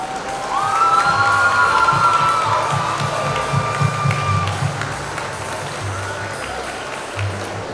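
An audience of parents and staff at a school circus show applauds loudly and cheers, with shouts and whoops over sustained clapping that swells early, then slowly eases while staying strong.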